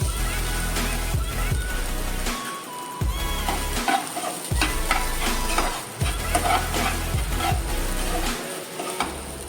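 Grated coconut being dry-roasted and stirred in a pan for a Goan mackerel curry, giving a steady close sizzle with repeated scraping strokes of a spoon over a low rumble throughout.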